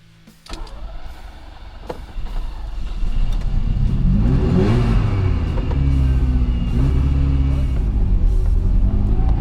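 A Ferrari 308 sports car engine starts low and builds into a loud, steady revving roar as the car accelerates on a road test, close by and sustained.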